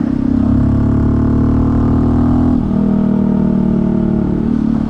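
Honda CT125 fitted with a big bore kit and 15-tooth sprocket pulling hard in third gear, a loud close engine drone climbing steadily in pitch, with a brief dip partway through before rising again.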